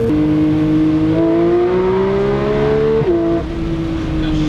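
Porsche 911 GT3 (992) flat-six engine blipping and revving through downshifts, a loud close, continuous engine note whose pitch climbs steadily, drops abruptly near the end, then settles into a steady drone.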